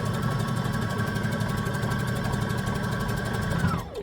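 A sewing machine stitches dress straps in a fast, even mechanical rattle that holds steady for several seconds and then winds down and stops at the end.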